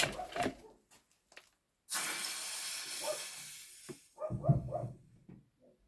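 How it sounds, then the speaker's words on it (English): A dog barks in a few short, loud bursts near the end, after a long hissing burst of steam from a wide-neck tub in a home hobby workshop where copper is being annealed. "As always, my doggy start barking."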